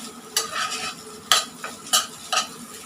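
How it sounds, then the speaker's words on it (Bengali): Vegetables and egg being stir-fried in a pan in a home kitchen, with four or five sharp scraping stirs of a utensil over a soft, continuous sizzle; close and fairly loud, with no talking. "আমি এখানে একটা ডিম দিছি, ডিম দিয়ে ভাজি করছি আর কি"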